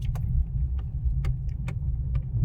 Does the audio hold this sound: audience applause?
no